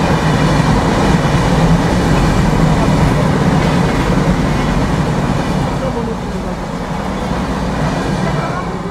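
The Sundarban Express rumbles past at a crossing with a loud, continuous roar of wheels and carriages that fades slightly toward the end, heard from alongside on a train journey between Khulna and Dhaka.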